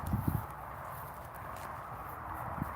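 Horse hooves walking on a farm with stables, a cluster of clip-clop footfalls near the start and another single step near the end, set against a steady outdoor background hum.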